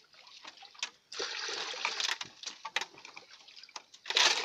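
Water is poured into a metal basin (legen), a steady close rushing splash for most of the stretch, broken by small pauses, clinks and a louder burst of pouring near the end.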